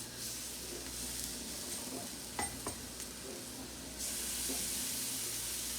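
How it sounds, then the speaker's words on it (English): Seasoned filet mignon steaks sizzle in a cast iron pan on a stovetop, giving a steady crackling hiss at moderate volume that grows denser and louder partway through, with a few faint clinks and no talk. "when it hits the pan, it's definitely got some sizzle going"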